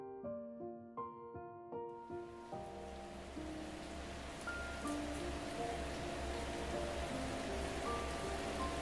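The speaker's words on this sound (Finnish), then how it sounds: "Sataa oikein kunnolla." Heavy rain begins with a dense steady hiss of drops on surfaces, rising in after a brief stretch of plucked melodic tones and then continuing loud and constant, with faint tonal sounds beneath.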